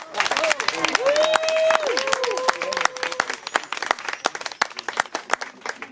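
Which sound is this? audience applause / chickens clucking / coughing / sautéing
audience applause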